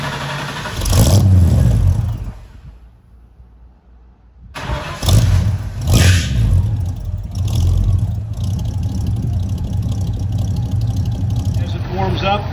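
A car engine fitted with a new Edelbrock carburetor cranks and catches, briefly revs, then settles into a steady close idle as it warms up, with a voice heard over it.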